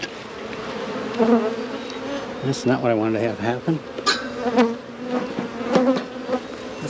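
Honeybees buzzing around an open hive during a spring inspection, a dense close drone with louder passes rising and falling, while someone talks over it.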